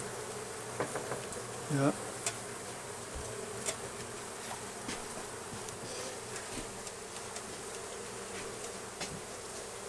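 Honeybees buzz steadily while being moved into an observation hive, a close, continuous insect drone with scattered clicks and handling bumps, and a brief voice speaks once.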